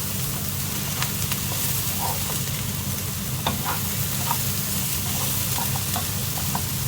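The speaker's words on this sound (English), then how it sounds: "Add the diced carrots in there and give a good mix, and let it cook" Diced carrots sizzling in a pan with beef for lasagne, a steady close frying hiss with small scattered pops and crackles, no voices over it.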